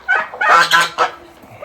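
Chickens clucking outdoors after a storm, a quick run of loud, close squawks and clucks in uneven bursts.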